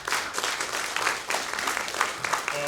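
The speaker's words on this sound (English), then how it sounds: "Big round of applause for" A theater audience at a veterans' Shakespeare performance of an adapted Othello gives a lively round of applause, with busy, uneven clapping throughout and a faint crowd murmur.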